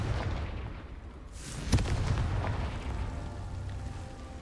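In Hogwarts Legacy, a Confringo fire spell lands with one sharp explosive crack midway, set against a low continuous rumble of game ambience that lingers afterward.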